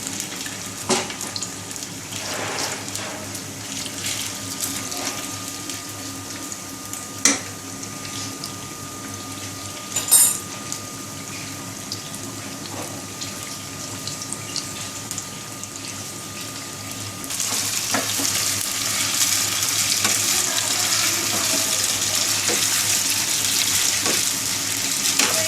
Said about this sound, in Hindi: चिकन हमारा फ्राई होता जा रहा है, कलर चेंज होना शुरू हो गया है।